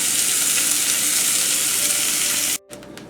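Steaks searing in a hot pan, a loud continuous sizzle and hiss up close, cut off suddenly near the end by a brief clatter.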